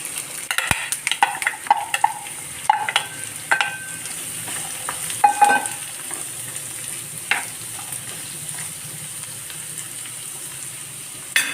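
Sliced radish sizzles steadily in a hot pan while a utensil scrapes and clinks against it in irregular stirring strokes.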